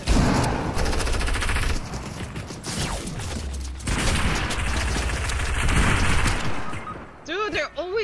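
Rapid automatic gunfire rattles in the video game Fortnite, loud and sustained with mechanical clatter, then breaks off near the end as people talk excitedly.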